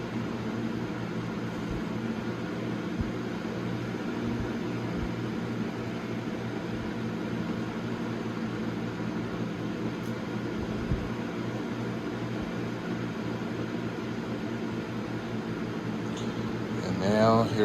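A Lasko box fan hums steadily with a broad, even whooshing noise, constant and unchanging, faint and alone.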